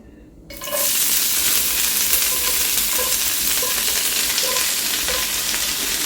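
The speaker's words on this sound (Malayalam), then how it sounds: "കടുക് പൊട്ടിയിട്ടുണ്ട് അപ്പോൾ ഇനി നമുക്കിതിലേക്ക് ചീര ചേർത്ത് കൊടുക്കാം" After a brief quiet moment, spinach hits a pan of hot oil with spluttered mustard seeds and erupts into a loud, continuous sizzle that holds steady throughout, close up and with no voices.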